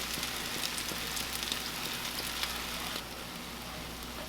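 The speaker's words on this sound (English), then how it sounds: "That's a beautiful sound, that sizzle, whether you're making cornbread or gritted bread." Steady, dense sizzling of gritted bread batter hitting a hot oiled pan, a constant crackling hiss with no voices, easing slightly toward the end.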